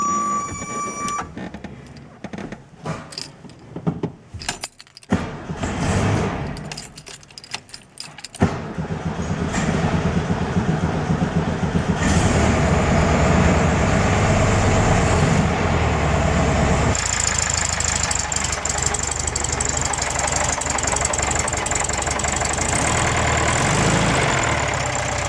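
A 1970 VW Beetle engine with valves needing adjustment is cold-started: a jangle of keys and a few cranking bursts give way to a catch at about eight seconds, then a loud, steady idle that runs alone for the rest of the clip.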